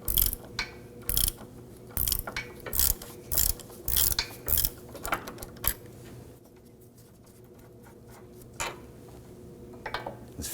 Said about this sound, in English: so we're going to transition into our regular ratchet with a Chocks bit